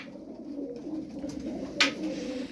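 Low, soft cooing from a flock of SarıKır tumbler game pigeons, a steady murmuring hum of overlapping calls held close, with a brief brighter flutter or scrape near the end.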